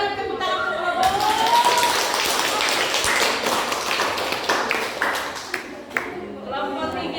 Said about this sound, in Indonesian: Kita berikan tepuk tangan untuk kelompok.